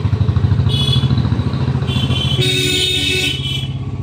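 Royal Enfield Bullet motorcycles rumble steadily through a busy market street in Malerkotla, Punjab, India, with a loud continuous low engine thump, passing traffic and horn-like tones layered in.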